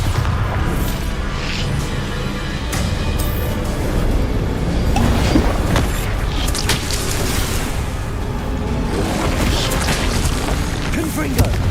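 Spell blasts from Bombarda and similar combat magic in Hogwarts Legacy, loud booming explosions and crashing impacts layered continuously with whooshing effects, dense and close throughout with no pauses.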